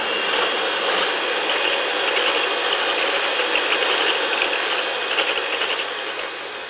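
An electric hand mixer whips cream for an Irish cream bread pudding, giving a steady, close, buzzing mechanical whir with a faint rattle that runs the whole time, alone with no talking.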